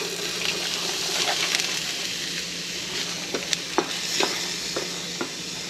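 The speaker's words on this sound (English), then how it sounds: "The garlic is minced, so in goes our onions first." Chopped onions sautéing in a pan for paella, a bright steady sizzle close up with several sharp scraping clicks of a spoon stirring them around, no talking.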